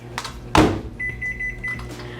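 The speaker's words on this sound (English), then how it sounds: "Microwave for 90 seconds." Microwave oven heating a chocolate keto mug cake: a sharp door clunk, then a steady humming whir with a sustained high electronic tone partway through, running alone.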